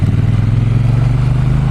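A 2017 Triumph Bonneville T120 parallel-twin engine runs loud and close, holding a steady, even low throb with a slight mechanical clatter and no talk over it.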